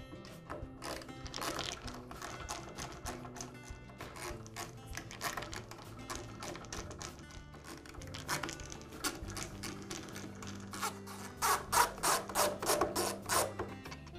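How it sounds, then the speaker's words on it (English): Screws being backed out of the front handle of a DeWALT circular saw during power cord repair, a dry rubbing, rasping driver-turning sound in repeated bursts with occasional clicks, close and moderately loud, no talk. "I'll remove the top half of the front handle, starting with these four screws"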